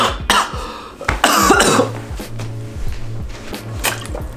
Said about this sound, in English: I just choked on my cough drop